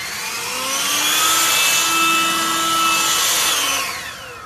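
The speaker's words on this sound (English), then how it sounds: "I got one of these LiTHELi or LiTHELi 40 volt lithium cordless operated power blowers" LiTHELi 40 volt lithium cordless leaf blower running, a loud steady whine and rushing airflow that swells up, holds, then eases off at the end, close by with no talk.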